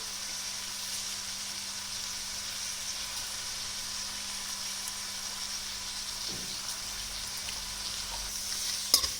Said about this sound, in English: We will saute it until the onions become translucent.